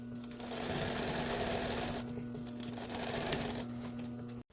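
Close sewing machine stitching a zipper onto a puffer coat, running continuously with a rapid mechanical whir, easing slightly midway before picking up again and stopping abruptly at the end.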